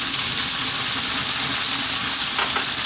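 Small pieces of bacon fry in sunflower oil over high heat, giving a loud, dense, continuous sizzle that stays even throughout with a faint clatter near the end.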